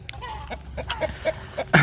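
A neighbour's chickens cluck in short, repeated, moderately close bursts, about every quarter second, over a faint background.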